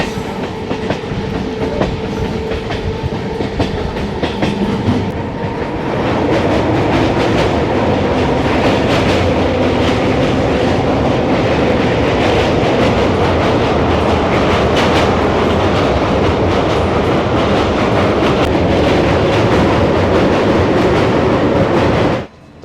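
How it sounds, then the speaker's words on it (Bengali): Local train running out of Naihati toward Bandel, a loud steady rumble of wheels and carriages with clickety-clack throughout, heard from inside, fading at the very end. "নৈহাটি থেকে তো ট্রেন ছেড়ে দিল"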